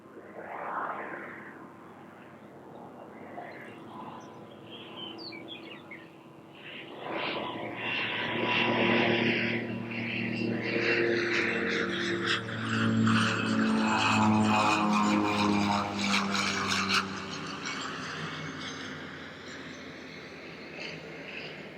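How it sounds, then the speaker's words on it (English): A de Havilland Twin Otter propeller plane lands at Colorado Springs airport, its engine drone swelling from a moderate hum to a loud, steady roar with propeller whine as it nears, then holding strong and easing slightly. "have a de Havillion Twin Otter coming in"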